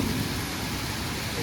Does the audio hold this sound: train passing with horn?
no